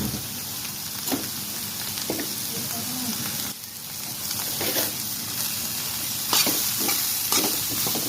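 Beans and capsicum stir-frying in a pan, a steady close sizzle with repeated scraping stirs of the spatula throughout, no talking.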